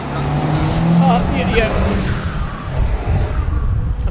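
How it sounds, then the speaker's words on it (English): A car passing by outside, a brief swelling engine and tire rush that fades, with a person talking over it. "I'm just letting that car pass"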